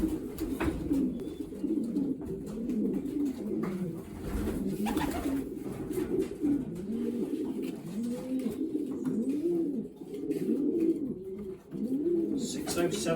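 Racing pigeons packed in a basket coo continuously, a dense overlapping murmur of low rolling calls close by, with brief handling noises and faint background voices.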